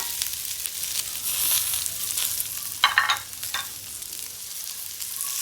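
Food fries and sizzles in a pan during home cooking, with a steady hiss broken by a few sharper stirring scrapes partway through.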